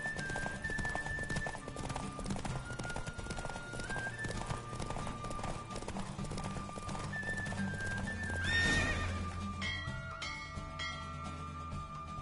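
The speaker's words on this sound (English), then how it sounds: "Don't spare the horse!" Rhythmic hoofbeats of a galloping horse with a whinny during a horse race in The Witcher video game, over game music, sustained and fairly loud before the pace breaks near the end.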